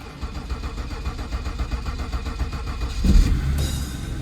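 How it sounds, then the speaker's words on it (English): A BMW 530 5 Series sedan in snowy weather is cranked and fires up around the three-second mark, a low starter churn giving way to a louder engine catch and settling into a steady idle, close by. "let's hop into 5 Series and start it up"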